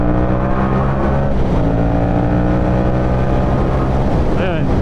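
A tuned Yamaha MT-07 motorcycle engine revs and pulls hard while overtaking trucks on the road, with rising harmonic engine tones, loud and close, buffeted by wind noise. No one talks.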